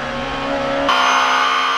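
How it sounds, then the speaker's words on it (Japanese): Touring cars from a 1994 JTCC race at Suzuka, a Honda Civic and BMWs, roar past in a dense pack, their engines loud and sustained. A sharp shift in tone marks one car passing close by. "まず土屋シビックは現在のポテンシャルではこんなもんだよとマイペース走行。"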